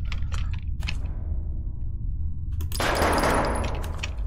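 A gun fires in an indie horror video game, with two quick shot bursts at the start and a loud, dense burst of rapid firing near the end, with no talking.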